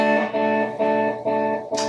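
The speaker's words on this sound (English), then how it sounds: "Now here we have something very interesting, which is the built-in delay." An Ibanez JEM electric guitar with a built-in delay rings out a repeated chord or note pattern, each strike echoed by a distinct delay repeat, sustained and close.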